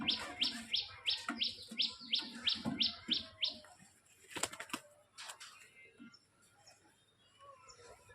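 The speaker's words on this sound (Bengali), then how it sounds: "আমাদের নতুন অ্যানিমেল হচ্ছে পায়রা" Pigeons in a cage give a rapid, rhythmic run of close bird calls lasting a few seconds, followed by scattered fluttering, knocks and rustling as they move about, with a voice talking quietly.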